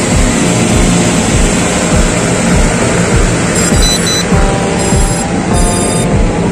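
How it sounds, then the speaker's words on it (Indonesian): An SG906 Max Pro 3 drone's motors whir loudly and steadily up close, a dense buzzing drone with faint high whines rising near the end. "Oke, sekarang saya hidupkan drone-nya."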